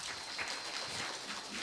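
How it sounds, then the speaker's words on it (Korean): Audience applause at a women's employment forum in Yeosu, a steady wash of many hands clapping close and continuous throughout, with no voices over it. "부탁도 안 했는데 박수 해주시네요"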